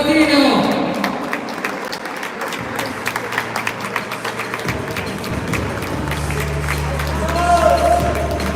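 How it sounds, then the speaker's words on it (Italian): An audience at a regional elite boxing tournament final applauds a fighter, a sustained wash of clapping under a hall announcer's amplified voice, with a low hum and scattered thumps around it. "un grande applauso per Salvatore Malatino"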